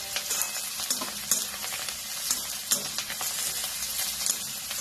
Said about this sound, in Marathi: कोथिंबीर पण याच्यामध्ये चांगली भाजायची